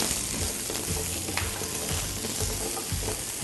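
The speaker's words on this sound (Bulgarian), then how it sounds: "Не спирам котлона и вътре слагам тези зеленчуци, за да мога леко и тях да запека" Vegetables searing in a hot greased pan on a stovetop burner with steady, dense frying sizzle, mixed with stirring and the clatter of utensils against the pan, heard up close and without talk.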